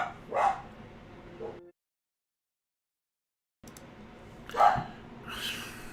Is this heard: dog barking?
yes